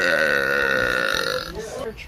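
A woman lets out a huge, loud burp in public, one long drawn-out rumbling belch held for over a second before it trails off into softer sounds.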